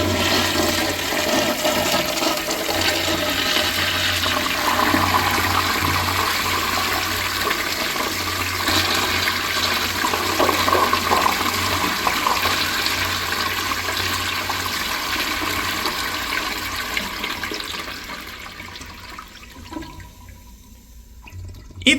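A 1960s Crane Purton toilet flushing with its bowl rinse from straight-down rim jets: a loud, sustained rush of water that holds for most of the span, then tapers into quieter trickling and refill at the end.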